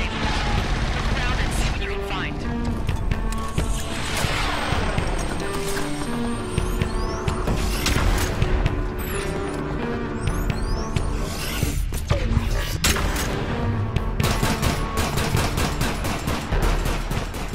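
Gunfire in the video game Killzone Shadow Fall sounds as dense, loud bursts of shots over a busy game soundscape with mechanical effects, and a person talks over it.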